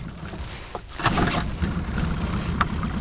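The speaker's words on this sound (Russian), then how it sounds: "И передвигаемся на моторе." An imported outboard boat motor with reverse gear runs on the water during longline fishing, giving a steady low drone with wind and water noise around it.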